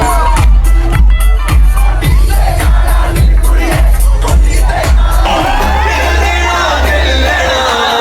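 A large crowd at a college fest DJ night cheers, yells and whoops loudly over pounding bass beats, with dense, sustained roaring throughout.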